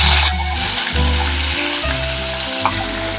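Raw rohu fish hits hot oil with a mustard-cumin paste tempering, giving a loud, continuous close-up sizzle with stirring scrapes and no talking.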